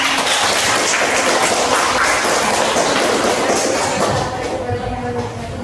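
Classroom clapping for a student group's concept-map presentation, a sustained wash of many hands clapping that fades slightly toward the end, with voices faintly mixed in.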